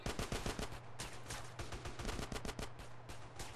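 Rapid gunfire from the video game GTA San Andreas, a rattle of repeated close shots in fast bursts with a low steady hum beneath, no talking.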